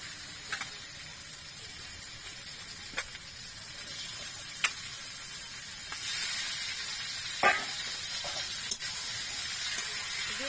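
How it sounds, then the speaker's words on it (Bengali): Meat pieces frying in a pan with butter and browned onions make a continuous soft sizzle and hiss, with occasional light taps and scrapes of stirring and a slightly louder burst of frying midway. "এবার এর মধ্যে মাংসগুলো দিয়ে দিচ্ছি।"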